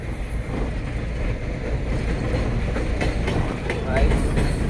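A steady rumbling of a train rolling along the tracks, with faint rhythmic clatter and some voices in the background.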